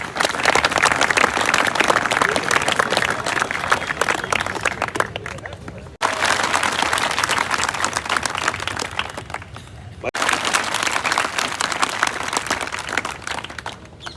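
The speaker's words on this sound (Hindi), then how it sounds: "जोरदार ताली बजाओ, हमारे ट्रैफिक स्टाफ आ गया है।" Loud, dense applause and clapping from a large crowd at a traffic-safety gathering, sustained across the whole stretch with two brief dips, noisy and close.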